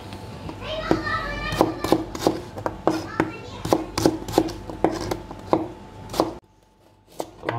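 A knife cuts carrots into sticks on a board in a steady run of sharp, close chops roughly every half second, while children's voices chatter in the background, then it drops to near silence.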